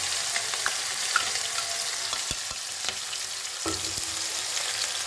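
Onion and green chili fry in hot oil with toasted cumin in a pan, a steady broadband sizzle with occasional soft clicks of stirring, close and continuous with no voices.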